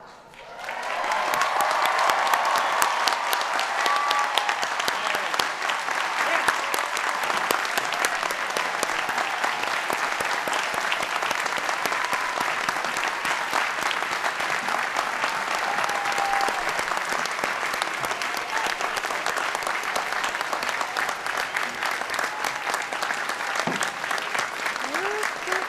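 Large audience at a 2013 university graduation ceremony applauding standing parents and grandparents, a long, even, sustained roar of clapping that swells in quickly and holds steady throughout.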